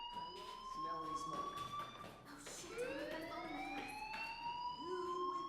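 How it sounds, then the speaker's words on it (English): A fire alarm wails through a school building in the video game Life is Strange, a rising and sweeping siren-like tone that repeats steadily and loudly under a person's talk. "Hey, do you hear that fire alarm?"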